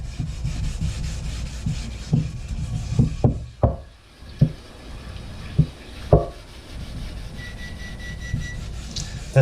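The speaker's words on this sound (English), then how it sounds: "use this Brillo pad and scrub it up real good" Steel-wool Brillo pad scrubbed over a rusty cast iron skillet laid on a towel in a kitchen sink, a steady close rubbing with several sharp knocks and clatters of the pan scattered throughout.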